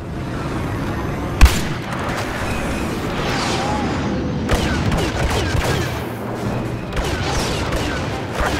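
Steady battlefield gunfire from Star Wars Battlefront, blaster shots and impacts running continuously, with one sharp loud crack early on and the team firing on walkers; no voices over it.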